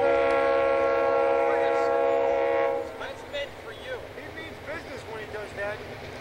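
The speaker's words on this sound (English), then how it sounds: "Train coming." A loud, sustained train horn blares close by for nearly three seconds, then cuts off, leaving the rumble of the passing train while people talk over it.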